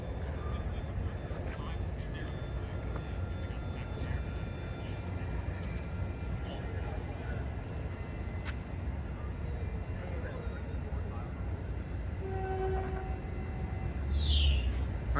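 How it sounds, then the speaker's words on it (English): Caltrain number 630, a Stadler KISS electric multiple unit, pulls out of Burlingame toward Tamien with a steady rumble and hum, heard from the platform and swelling slightly near the end, with a brief high squeal. "there goes your train off to Tamien, Caltrain number 630"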